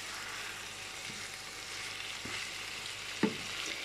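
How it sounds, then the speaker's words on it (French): Pork with caramel, onions, soy sauce and spices sizzles steadily in a pan while being stirred, with a few soft scrapes and clinks of the spoon over the constant frying hiss. "On mélange."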